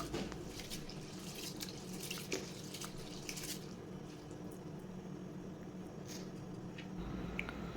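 Rice and lentils are rinsed in water three times, giving soft continuous splashing and sloshing with tap-like running water and small drips, close by and fairly quiet.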